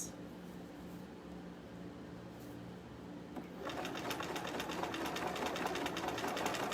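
Bernina sewing machine running a zigzag stitch through layered tulle skirting, a steady rapid mechanical whir with quick needle clatter that starts up partway through and continues close and loud to the end over a low background hum.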